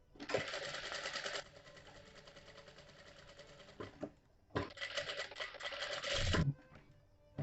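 Sewing machine stitching the rounded neckline of a princess-cut blouse, running in two bursts of rapid, steady mechanical whirring with a short pause between them, close and clear with no talk.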